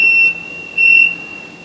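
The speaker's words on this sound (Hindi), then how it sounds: "यहाँ पे सर्वो नहीं ऑन रखी हुई थी, टेस्ट वाइज में अलार्म आ गया" Two short high electronic beeps sound from a Motoman spot welding robot controller raising an alarm with servo power off, clear and close in a quiet room.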